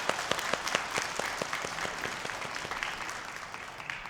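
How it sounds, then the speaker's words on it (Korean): A church congregation claps together at a Sunday worship service in praise after a choir hymn. Sharp, distinct hand claps start out strongly and then blur into a softer, continuous patter of applause that carries on to the end. "하나님께 영광의 박수 올려드리겠습니다."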